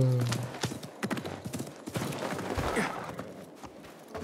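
Horse hooves clip-clop at a steady trot in Assassin's Creed Mirage, set among busy game ambience with scattered clatter, moderately close and fairly loud throughout.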